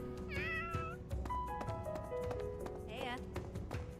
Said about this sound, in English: Kitty again!